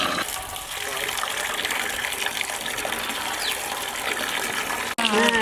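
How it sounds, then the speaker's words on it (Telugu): Water poured into a mixture while preparing village-style roasted chicken, a steady gushing pour that runs continuously at close range and ends abruptly near the end. "ఇలా కొంచెం వాటర్ తీసుకుంది"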